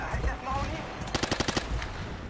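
Automatic gunfire in the video game Battlefield 2 during multiplayer, a short rapid burst of about seven shots rattling out over a low, steady background.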